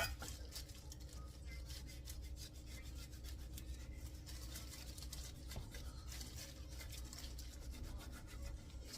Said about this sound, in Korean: 멸치김밥 2줄 썰겠습니다